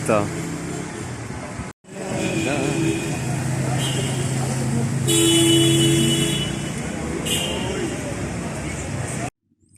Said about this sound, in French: ça fait 15 minutes que je marche à peu près au son des klaxons